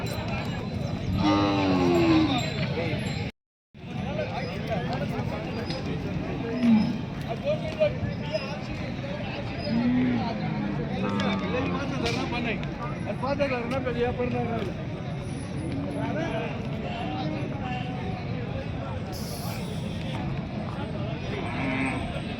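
Bulls low now and then amid a busy outdoor village cattle market in Belhe, India, with hooves clopping under many people talking.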